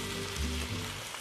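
Sauerkraut sizzles in a pan with onion for an Alsatian choucroute, a soft steady crackle and hiss with a faint low hum beneath.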